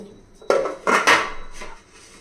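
A perforated steel steaming bowl is handled in a kitchen, giving a few clattering metallic knocks and scrapes, two louder clanks close together near the middle, then a fainter rattle.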